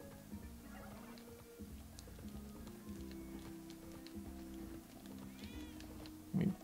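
Cat meowing in the video game Spelunky 2, a faint, brief mew near the end of a busy stretch of game sound, with music and effects running throughout.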